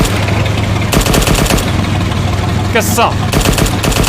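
Automatic gunfire in the Arma 3 video game, in a WWII desert setting, comes in loud bursts of rapid shots over a steady engine-like drone, with a voice calling out briefly.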